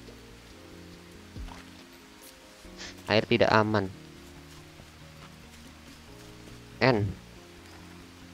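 Sudden rain in the Green Hell jungle survival game gives a steady, soft hiss beneath ambient game music, while someone speaks in short bursts over it.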